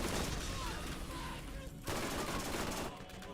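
Gunfire from a Borderlands shooter game, sustained shots and bursts aimed at explosive barrels, dense and loud throughout with a brief drop near the middle, with speech faintly mixed in.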